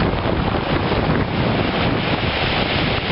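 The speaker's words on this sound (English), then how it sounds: "sound of the waves as they roll back down all these little tiny cobblestones" Waves wash back down over small cobblestones on a rocky beach along a trail, a loud, steady hiss of surf mixed with heavy wind buffeting the microphone.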